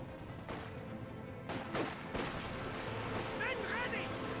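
Artillery barrage in Company of Heroes 2: several sharp distant booms land one after another amid ongoing battle noise, moderately loud, with a caster talking lightly over the action.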